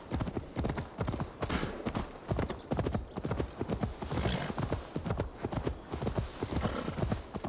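Rapid, steady clip-clop of horse hooves at a constant gallop in Assassin's Creed Valhalla, close and loud, with occasional faint voices beneath.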